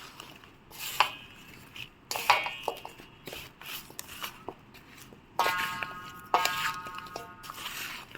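A spoon scrapes and clinks against a bowl while stirring spicy mango pickle, giving irregular close metallic taps and scraping strokes with brief pauses and no talking.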